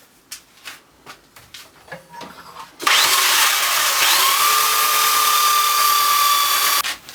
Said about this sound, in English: these edges interfere with the opening, so they've got to be sanded off or cut off in some way on both sides